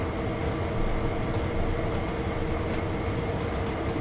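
Long freight train hauled by three SD40-2 locomotives on Sherman Hill in a train simulator, a steady broadband rumble and rolling roar holding constant and fairly loud with no voices.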